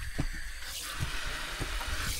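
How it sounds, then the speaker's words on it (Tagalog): A pump draws water from a lake at a campsite, making a steady rushing, splashing water sound with faint intermittent knocks, close and continuous, with no talk. "Papump tayo ng tubig."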